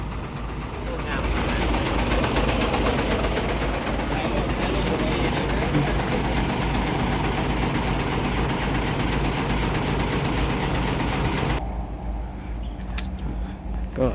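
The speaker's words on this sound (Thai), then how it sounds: "ขยับรถเข้ามาจอดด้านในอ่ะ" A truck engine rumbles steadily while the truck is moved forward to park inside, a continuous low idle-like drone that drops off near the end.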